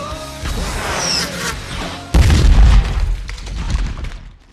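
A rocket explosion from the film Punisher: War Zone, during a parkour scene, lands as a sudden heavy boom midway through, cutting over busy soundtrack rumble and effects that then decay.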